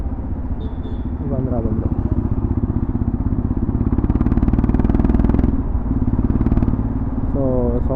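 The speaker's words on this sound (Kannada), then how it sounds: "ಸೊ ಸೌಂಡ್ ನೋಡಿ ಸಾಕಾಗೈತೆ. Double evolution full system exhaust" A modified, stage 2 tuned Himalayan 411 motorcycle with a full-system exhaust idles and revs close by, a deep throbbing engine note rising and falling while someone talks over it.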